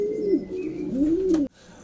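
Racing pigeons coo in a pigeon loft, two soft rolling coos close by, then a brief hush.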